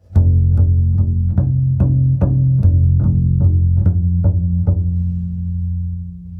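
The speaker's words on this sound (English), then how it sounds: "play the open string again, and then play the octave harmonic" Double bass sounding a low open string, then a bowed octave harmonic, repeated in steady strokes of about half a second each, close and loud with no voices.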